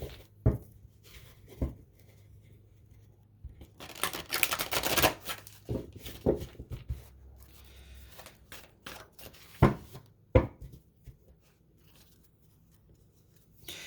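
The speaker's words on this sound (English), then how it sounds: "We're going to shuffle these up, and I'm going to pick a card." Intermittent shuffling of tarot cards: soft riffles and brisk flutters between quiet pauses, close up, with no talking.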